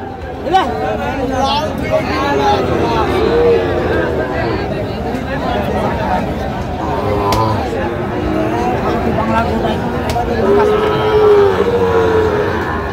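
Sahiwal calves and cattle at a farm in Pabna moo repeatedly, several drawn-out calls rising over steady farmyard noise and overlapping human chatter throughout.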